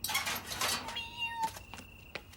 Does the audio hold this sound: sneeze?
no